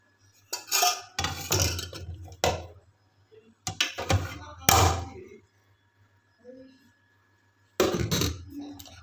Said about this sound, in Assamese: মই বাচনখিনি ধুই লওঁ